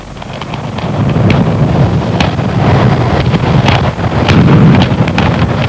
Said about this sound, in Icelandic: Sprengingin hljómar svona nokkur 100 metra utar í göngunum.